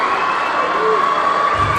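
Crowd noise at a boys high school basketball game, a VHSL Elite 8 matchup between Gate City and Martinsville, rising as a steady, continuous roar of cheering throughout the short stretch.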